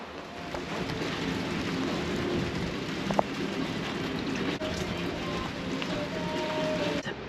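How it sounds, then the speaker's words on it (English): Running water after a storm near a cabin, a steady broadband wash like a stream or runoff, fairly quiet and even throughout, with a faint brief knock partway through and no talk. "all I can hear is running water somewhere"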